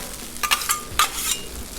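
Chorizo sizzles on a Blackstone griddle while it is pushed and spread out, with a steady frying hiss broken by several short, bright spatula scrapes up close.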